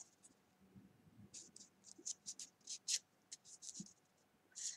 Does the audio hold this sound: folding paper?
yes